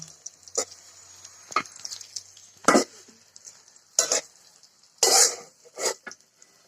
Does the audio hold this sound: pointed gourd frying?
yes